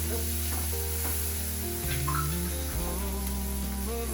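Chopped onion frying over low heat in a pan gives a steady close sizzle with light stirring, under continuous background music.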